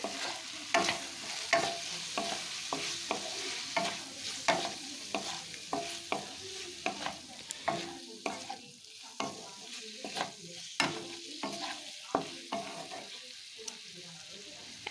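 Broccoli with turmeric cooking covered in a pan without water, a steady run of scraping and stirring knocks under a faint sizzle, close by and without talk.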